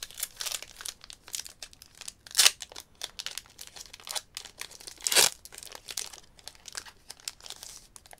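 A Pokémon card booster pack wrapper being torn open, with close, busy crinkling and tearing of foil plastic and a couple of louder rips, no speech.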